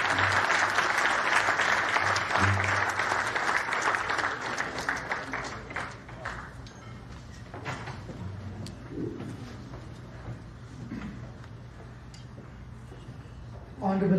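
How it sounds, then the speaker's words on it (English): An audience at the Vishwa Sadbhavana event claps loudly in sustained applause to welcome a speaker on stage. The clapping swells early and then thins out gradually over about fourteen seconds. "With your round of applause, please welcome Shri Ravi."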